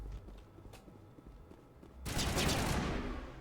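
Gunfire in the Mass Effect video game: a dense, loud burst of shots breaks in suddenly after a quieter stretch of low rumbling and faint clicks, then holds as a sustained crackling barrage to the end.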